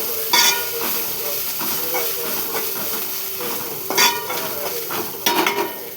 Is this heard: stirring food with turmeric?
yes